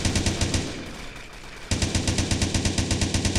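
Rapid, loud automatic gunfire in a toy factory video game level, a fast steady stream of shots that pauses briefly midway and then resumes at the same pace.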